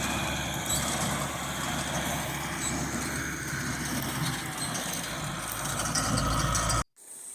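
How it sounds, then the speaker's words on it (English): Allis Chalmers 6070 tractor pulling an Allis Chalmers 303 baler through a wheat stubble field, a steady, close engine drone with broad mechanical rumble that holds constant before cutting off abruptly near the end. "the straw is being baled by what I believe is an Allis Chalmers number 303 baler, and it's pulled by an Allis Chalmers 6070 tractor"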